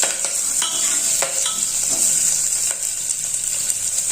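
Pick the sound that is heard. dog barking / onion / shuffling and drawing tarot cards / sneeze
onion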